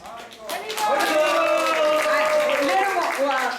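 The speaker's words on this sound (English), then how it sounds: "Let's give him a round of applause." An audience at a Sunday Snan Yatra in an ISKCON temple in Atlanta breaks into sustained clapping after a brief lull, dense and fairly close, with voices mixed in.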